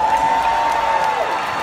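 A comedy concert audience at a Miami radio station's 30th anniversary show, the people in relationships, claps and cheers in a steady, dense wash of applause, with a sustained tone running underneath.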